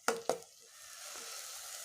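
Masala frying in hot oil in a pan for gobhi anda kadhi, an Indian cauliflower and egg curry: two quick crackling pops open, then a soft, steady sizzle carries on close by.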